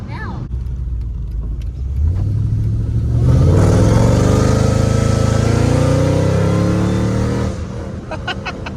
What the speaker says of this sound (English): That's like half throttle right there. Yeah. It's instant torque. That thing goes.